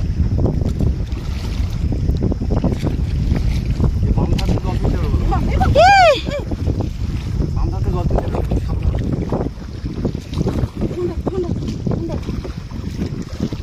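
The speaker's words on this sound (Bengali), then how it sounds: "প্রচুর হাওয়া হচ্ছে।" Strong wind rushes over a boat on a river under cloudy skies, a heavy, continuous roar buffeting the microphone, with a brief voice-like sound partway through.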